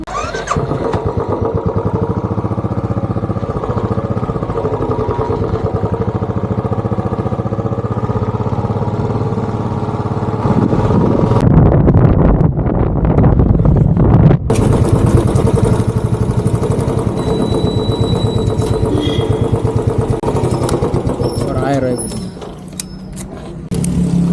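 A black motorcycle with an orange tank runs on a hill road near Kodaikanal, its engine note steady and close for most of the stretch. It surges louder midway, then settles back to a lower drone with some wind noise.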